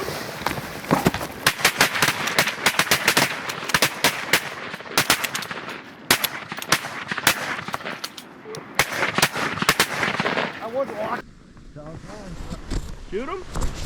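Shotguns fire during a Pennsylvania goose hunt in dense, rapid volleys of loud, close blasts, then the firing drops away as voices talk near the end.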